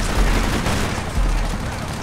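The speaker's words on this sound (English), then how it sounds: "Hey, boys, keep shooting!" Heavy sustained gunfire in the Kane & Lynch video game, a loud rolling barrage of shots with deep booming low end and no pause.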